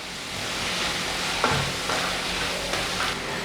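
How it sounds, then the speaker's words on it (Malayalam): Bay leaf, cinnamon and cardamom fry and crackle in a pan while being stirred, a steady soft sizzle with a few scraping strokes, close and fairly even, with no talking. "ഇനി എല്ലാം കൂടെ നന്നായിട്ടൊന്ന് മിക്സ് ചെയ്ത് കൊടുക്കാം"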